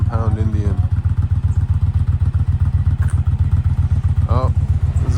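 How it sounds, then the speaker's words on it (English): A heavy motorcycle, among the most expensive present, rolls out with a loud, close, evenly pulsing engine thump throughout, with people talking nearby. "one of the most expensive and heaviest bikes are rolling out"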